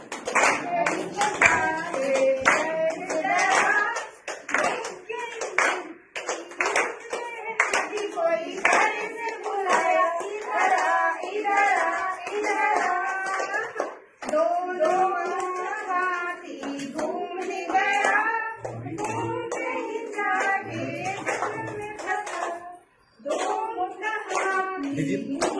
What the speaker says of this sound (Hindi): कम से कम ताली बजाइए